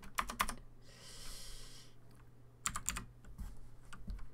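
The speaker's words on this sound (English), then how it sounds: "I'm an expert typer" Quick clusters of clicks from a computer keyboard, a few bursts of typing with pauses between, fairly quiet and close, with a brief soft hiss in between.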